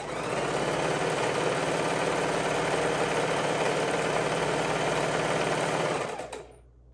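Close up, a sewing machine hums steadily for about six seconds as it joins quilt pieces, then winds down and stops.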